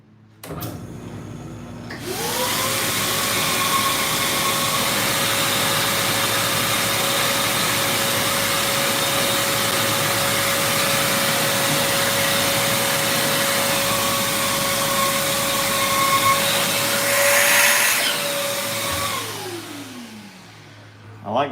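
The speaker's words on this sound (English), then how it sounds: "new vacuum, but it's so much louder than the old one" A new shop vacuum in a workshop spins up with a rising whine, roars loudly and steadily for many seconds, then winds down as its motor pitch drops away.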